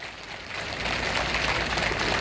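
A crowd at a public function in Beerwah, Budgam, breaks into applause, a dense, even patter of clapping that swells after a quieter start and holds steady.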